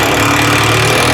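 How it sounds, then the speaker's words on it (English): Power drill driving into a gable board from inside a house extension, a steady loud motor whine with low hum running continuously and close throughout. "as you can hear, Lee is drilling"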